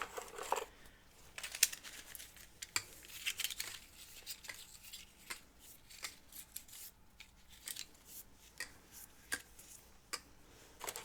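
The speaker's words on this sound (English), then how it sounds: "Alright, so let's give these a stir" Freshly mixed paint samples with drops of treadmill silicone and OGX coconut milk serum get stirred in small containers, giving faint, scattered ticks and light taps against a quiet background, with no talking.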